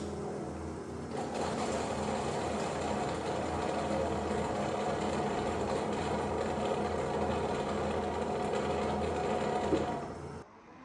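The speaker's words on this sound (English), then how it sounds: "here's a sample of what it's like when it is in action cleaning those mops" A robot vacuum's dock washing its mops: a steady mechanical whirring and humming runs continuously for about ten seconds, like a motor and water churning, then cuts off abruptly.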